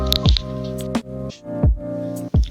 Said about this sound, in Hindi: अब हम इसमें डाल रहे हैं जिंजर का पेस्ट